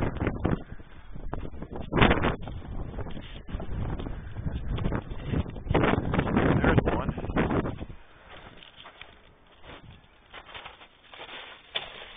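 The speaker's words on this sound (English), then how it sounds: "besides it's being windy" Gusty wind buffets the microphone in heavy rumbling bursts at a semi truck junkyard, easing off into a quieter, steadier rush for the last few seconds.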